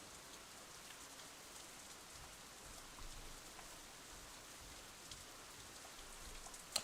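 Steady rain in Katawa Shoujo, a soft, even hiss of drops falling on surfaces throughout, with a faint sharper tap near the end and no voices.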